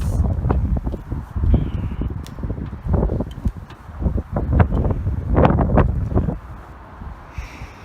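Strong storm wind buffets the microphone outdoors by a railway level crossing, a constant low roar rising and falling in gusts across the whole stretch, with rustling and a few brief knocks mixed in.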